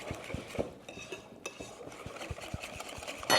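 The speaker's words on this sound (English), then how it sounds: "Now we whisk this to combine." A whisk beats eggs into thin waffle batter in a bowl, giving quiet, quick rhythmic metallic taps and scrapes against the bowl's sides, close up and with no talking.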